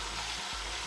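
Onions frying in a pan with meat, a dense close hiss and crackle, with a soft stirring movement partway through the short burst.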